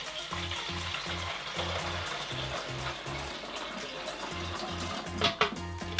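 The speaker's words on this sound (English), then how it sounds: "there is a little hole on the top here which allows you to pop in the water" Water pours in a steady rushing, fizzing stream into the clean-water tank of a Numatic Henry Wash carpet cleaner, loud and close, with a low pulsing hum underneath and a few knocks near the end.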